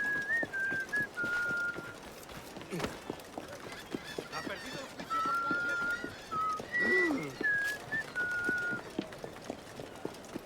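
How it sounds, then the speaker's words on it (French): Birds in the pirate video game Assassin's Creed Black Flag chirp and whistle in repeated short calls over game ambience, with speech heard throughout. "Eh ben, il y en avait des oiseaux."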